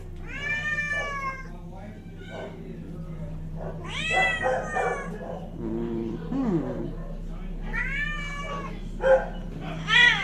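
Cats at an animal shelter meowing repeatedly, several drawn-out cries close by, interspersed with a person talking softly in a quiet room.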